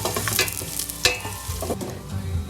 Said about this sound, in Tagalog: Naggisa ng bawang, hinalo hanggang lumabas ang aroma.